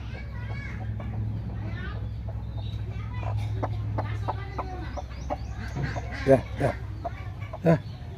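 Native chickens at a farm cluck in short, scattered bursts nearby, with a low hum and a couple of louder knocks, people faintly audible in the background.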